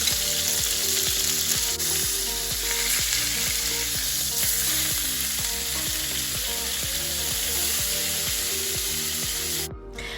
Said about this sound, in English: I was just searing up some New York strip steak, 1 minute per side on very high temps